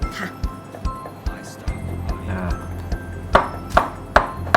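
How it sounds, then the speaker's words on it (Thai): A knife slices a banana on a cutting board in a series of light taps, growing into four sharper, closer chops near the end, with talk and background noise underneath. "หั่นกล้วยหอม"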